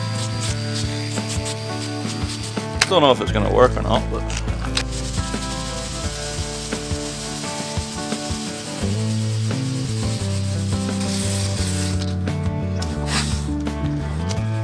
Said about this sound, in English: so I'm going for the drill now.